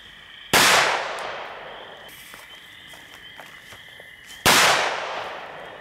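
Two sharp, loud bangs from a Winda Bullet Boys firework, about four seconds apart, each trailing off into a decaying crackle, with faint background noise in between.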